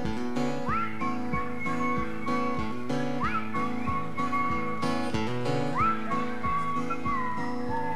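A live concert crowd whistles along with a song, a recurring melodic whistle tune rising over the full band's steady rhythm throughout, loud and close.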